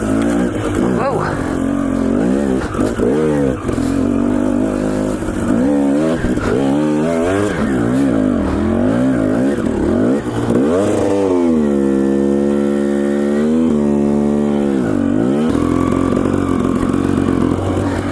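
A two-stroke motorcycle ridden fast along a desert trail, its engine close and loud throughout, pitch climbing and falling in repeated revving surges as the rider works through the rev range.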